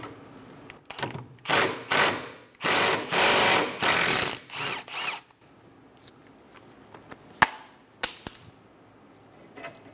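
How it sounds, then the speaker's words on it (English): A 12 mm socket on a ratchet removes the brake line bracket bolt on a 2003-2007 Honda Accord, giving several close, quick bursts of ratcheting and clicking, then a quieter stretch with a few isolated metallic clicks. "Using a 12 millimeter socket, remove the bolt for the brake line bracket."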